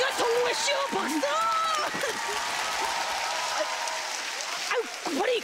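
A studio audience at a Korean TV comedy show bursts into sustained applause after a strongman-style stunt, with loud voices shouting over the clapping throughout.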